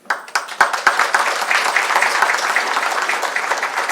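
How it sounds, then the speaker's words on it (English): An audience at a Delhi Langar Sewa Society foundation day and award ceremony applauds the team, starting with a few scattered sharp claps that quickly swell into steady crowd applause. "please join our hands together to applaud the team"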